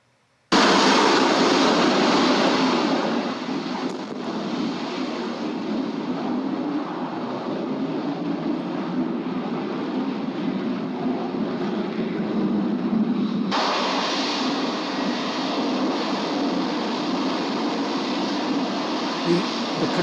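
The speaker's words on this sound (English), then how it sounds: "It's amazing noise. There's only 2 aircraft in play here, but you can see the size of the flight deck." Two jet aircraft, one a Harrier, roar on the flight deck of an aircraft carrier, a deafening, continuous broadband jet roar up close that surges louder partway through and holds steady to the end.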